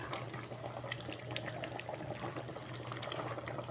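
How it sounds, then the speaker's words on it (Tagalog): A pot of sinigang sa miso soup bubbles at a steady rolling boil, close and continuous, with a dense wet burbling and no voices. "kumukulo ng ating sinigang sa miso"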